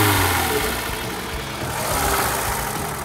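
A Lada Niva engine runs steadily, a close mid-pitched drone with a rough, slightly uneven idle and no talk over it.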